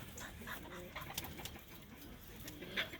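Pigeons coo softly from nest boxes in a backyard loft, a faint, low murmur scattered through steady outdoor ambience with a few brief sharper calls.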